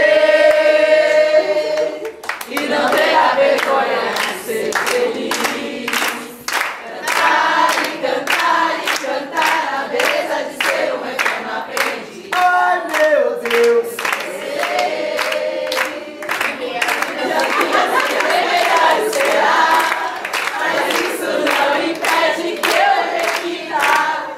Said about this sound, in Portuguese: vamos aplaudir vocês